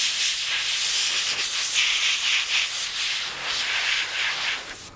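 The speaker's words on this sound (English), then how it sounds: "the natural blowout that the airbrush creates, works perfect" Airbrush spraying paint onto a Darth Maul figure, a steady airy hiss running almost continuously for five seconds with slight pulses, close and fairly loud, with no voices.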